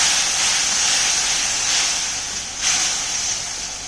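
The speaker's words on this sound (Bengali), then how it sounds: "এই মশলাটা এখানে কড়াইতে দিয়ে ভালো করে কষিয়ে নেব" A spice paste fries in oil in a kadai for a vegetarian mung dal and parwal dish, giving a loud, steady hiss and sizzle that swells briefly midway, with no talking.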